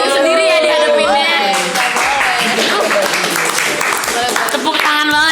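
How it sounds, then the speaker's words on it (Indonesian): A studio audience applauds loudly and continuously, with voices and cheering mixed into the steady clapping. "Tepuk tangan banget sih"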